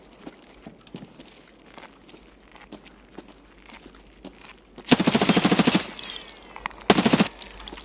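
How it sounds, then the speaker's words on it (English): Full-auto gunfire in the shooter game Escape From Tarkov comes as two loud, rapid bursts, the first about a second long and the second shorter, after several seconds of quiet footsteps and movement. "Let's switch to full auto."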